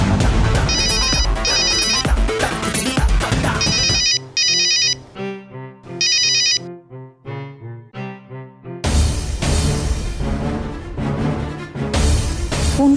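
A loud electronic phone ringtone plays a repeating melodic tune, briefly dropping to quieter melodic phrases before the full ringing returns.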